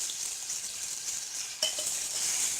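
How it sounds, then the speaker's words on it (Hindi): Tomatoes fry in a pan for daal, giving a steady soft sizzle with a brief clink of a utensil partway through; no one speaks. "तो जब तक ये टमाटर सॉफ्ट होते हैं, हम इन्हें अच्छे से उस वक्त तक हमें भूनना है।"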